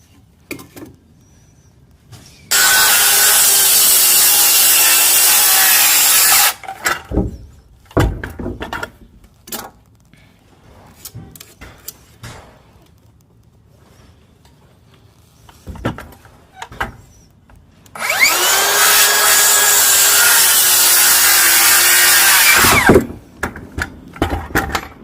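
A power saw cuts wooden trellis posts to length in two long, loud, steady passes of several seconds each. Sharp knocks and handling noises fill the gaps between the cuts.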